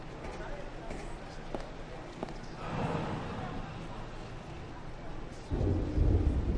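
A thunderstorm in the video game Blues and Bullets: a low rumble builds and a heavier roll of thunder breaks out near the end over a steady wash of rain.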